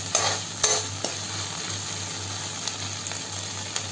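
Onions fry in a pan for bhindi sabzi, sizzling steadily up close while a spoon stirs and scrapes, with a few sharp clinks near the start.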